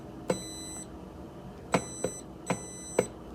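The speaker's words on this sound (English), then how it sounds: "The auditory feedback switch plays a beeping sound whenever a button is activated." Five short electronic beeps from a wireless switch interface's auditory feedback as buttons are activated, sounding at irregular intervals, each a bright, clean tone over a quiet background.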